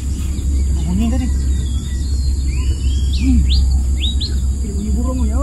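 Wild jungle fowl and other birds calling in tropical forest, scattered chirps and whistled calls over a constant insect drone and low rumble, with occasional voices in the background.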